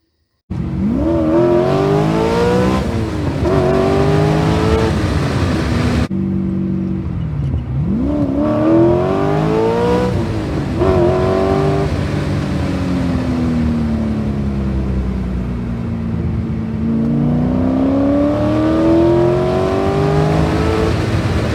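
A Porsche 944 with a swapped-in LS V8 drives and revs in cold weather, its engine climbing and dropping through repeated loud acceleration runs and gear changes, heard close from inside the car.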